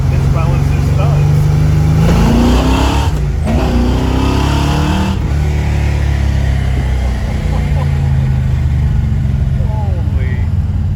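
1970 AMC Rebel The Machine muscle car under acceleration, a loud close engine drone rising in pitch through the gears with steady road and wind noise throughout.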